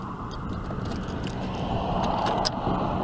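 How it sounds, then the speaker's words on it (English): Keys jangle and clink in close succession while someone gets them out to unlock a door, with a faint hum of a road vehicle underneath. "Let me get my keys out"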